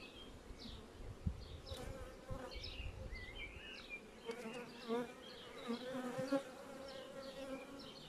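Honey bees buzz around an open beehive during a hive inspection, a quiet, continuous hum with individual bees passing close now and then.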